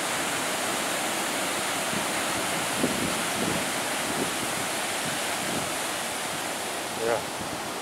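Ocean surf at Nguyahan beach in Gunung Kidul, Yogyakarta, a steady broad roar of breaking waves and wash, loud and continuous with wind noise, a faint thump near the end.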